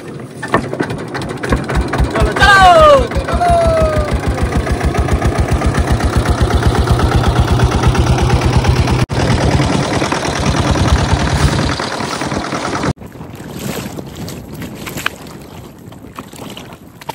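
A fishing boat's engine starts with a brief rising whir, then settles into a loud, steady, close chugging throb that runs on with wind buffeting, before cutting to quieter water and wind ambience.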